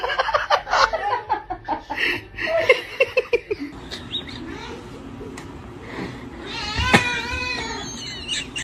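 A cat meows in short, repeated calls near the start, with laughter and chuckling mixed in, then a longer, drawn-out caterwaul-like yowl near the end over a quiet room background.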